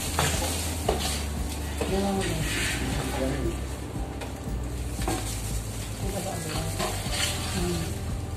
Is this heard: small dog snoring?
no